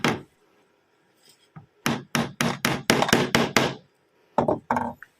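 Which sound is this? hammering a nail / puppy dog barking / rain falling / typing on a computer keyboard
hammering a nail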